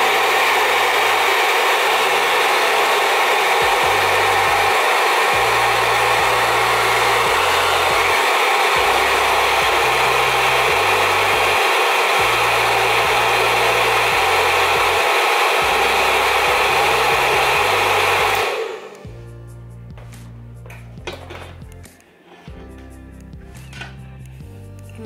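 Hair dryer with a diffuser attachment runs loudly and steadily as it curls hair, a broad constant whoosh for most of the stretch before cutting off abruptly, leaving quieter handling sounds.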